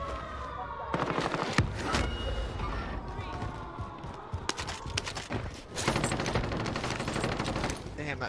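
A shotgun fires repeatedly in a video game: loud, dense bursts of blasts and echoing gunfire crowd together, dipping briefly midway before starting up again, with voices faintly underneath.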